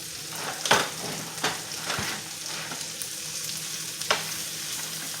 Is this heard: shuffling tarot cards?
no